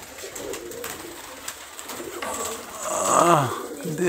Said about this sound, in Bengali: এটাও খুবই ভালো বাজির কবুতর।